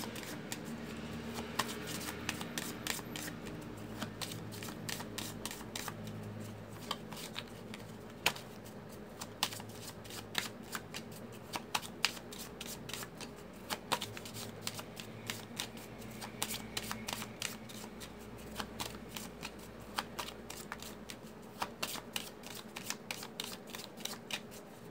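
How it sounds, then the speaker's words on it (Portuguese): Tarot cards being shuffled by hand for a reading, a long close run of soft riffling and flicking card sounds with steady rhythm and frequent sharper snaps, quiet and with no speech. "embaralhando então os nossos arcanos"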